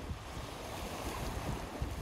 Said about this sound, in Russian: Море успокоилось.